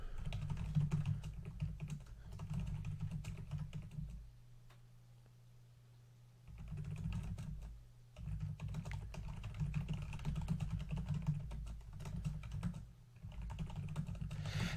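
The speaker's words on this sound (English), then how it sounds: "forgive me if like my keyboard is thumping in your eardrums" Fast continuous typing on a computer keyboard, close and dense with thumping keystrokes, pausing briefly near the middle over a low steady hum before resuming.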